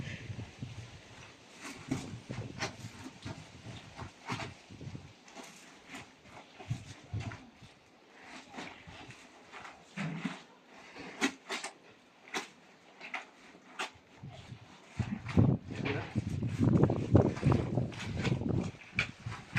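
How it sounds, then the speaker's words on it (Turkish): Grapes are crushed by feet in rubber boots treading in a blue basin for making grape molasses, giving repeated wet squelching stomps that grow louder and denser toward the end. "Üzüm teknesi olmadığından mavi leğende eziyoruz"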